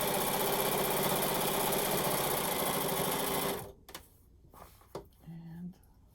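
A sewing machine stitches quilt binding with a steady loud whirring hum for several seconds, then stops abruptly, leaving quiet handling clicks and faint noises.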